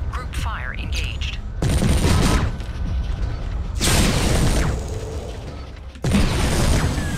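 Mech weapons group-fire in Mechwarrior 3, loud bursts of heavy gunfire and mechanical clatter in several long volleys, separated by brief lulls, with a voice talking over parts.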